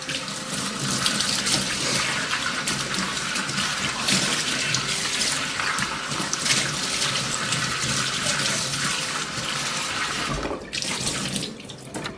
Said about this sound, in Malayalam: ഇനി നമുക്കിത് വെള്ളം ഉപയോഗിച്ചിട്ട് നന്നായിട്ട് കഴുകിയെടുക്കാം